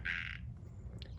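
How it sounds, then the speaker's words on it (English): A frog croaks near a 2022 Winnebago Travato 59KL camper van, one short, bright trilling croak in the quiet background, followed by a faint second chirp. "that's a frog in the background"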